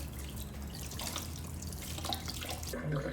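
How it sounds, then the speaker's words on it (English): Running tap water steadily rinsing a cleaned catfish over a sink, a continuous broadband splashing stream with slight changes as the fish moves under the flow, close and fairly loud, no voices. "you want to have it cleaned under running water"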